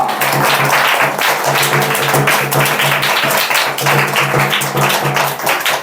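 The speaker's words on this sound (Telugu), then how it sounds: "చప్పలు కొట్టి అయ్యగారిని మనము ఆహ్వానించుకుందాం గట్టిగా చప్పలు కొట్టి గట్టిగా బిగరగా" Applause from a church congregation welcoming a guest at a Christmas honouring event, dense and steady throughout with no break, loud and close.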